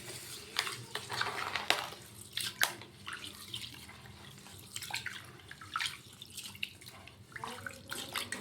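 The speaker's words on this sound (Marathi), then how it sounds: "याच्यामध्ये पाणी टाकून 2 ते 3 वेळा चांगलं स्वच्छ पाण्याने धुवून" Rice gets washed in clean water before becoming kurdai, with quiet sloshing, drips and small splashes repeating irregularly throughout.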